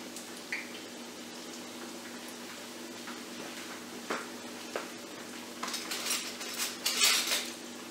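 A spoon scrapes and clinks against a pan as sugar-coated plantain fritters fry over medium heat, with scattered soft taps that turn into denser, louder scraping near the end.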